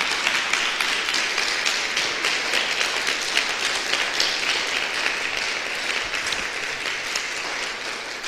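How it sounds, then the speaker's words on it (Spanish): A church congregation breaks into strong, sustained applause during a Spanish-language service, a thick, even roar of many hands clapping that fills the room. "Dele un aplauso fuerte al Señor."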